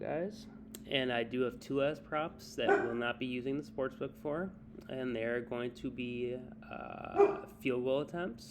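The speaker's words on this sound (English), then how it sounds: "Sorry about my dog" A dog barks in the background of a home recording while someone talks steadily over it, the barks partly masked by his voice.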